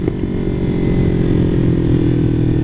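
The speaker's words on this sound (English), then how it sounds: "So hear that throttle blipping?" A Kawasaki Ninja 300 or Yamaha YZF-R15 sport bike engine idles steadily and close, with a slight rise at the start, loud and continuous with no talk.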